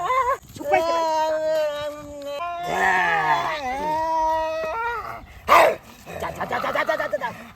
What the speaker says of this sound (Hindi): ये कौन पगला कुत्ता?